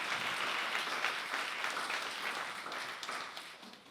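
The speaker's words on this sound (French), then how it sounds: "J'aimerais entendre un grand applaudissement à ceux qui veulent honorer Jésus ce matin." A church congregation applauds at a Sunday morning service for a big round honoring Jesus: a steady, dense wash of clapping from many hands that runs throughout and tapers slightly toward the end.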